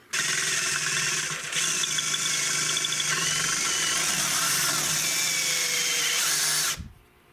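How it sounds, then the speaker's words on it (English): A power drill runs steadily for several seconds drilling a hole in a rifle stock, pausing briefly once, then winds down and stops abruptly, loud and close. "I'm going to drill this hole"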